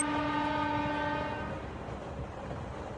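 A train in a Doraemon cartoon sounds a sustained, multi-tone horn that cuts off after about a second and a half, leaving a steady rolling rumble of the moving train with no speech.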